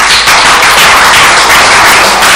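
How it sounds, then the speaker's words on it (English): Loud, dense applause from an audience at a career fair, continuous clapping filling the whole stretch at close range. "Let's give him a big round of applause."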